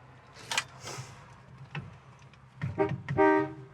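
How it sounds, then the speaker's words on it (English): A 1957 Chevy Bel Air's horn honks a few short times at close range, with faint clicks and cabin rustle between the blasts. "Horn works."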